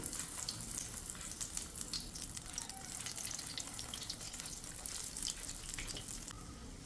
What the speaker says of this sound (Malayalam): ഇനി ഇത് ഫ്രൈ ചെയ്തെടുക്കാം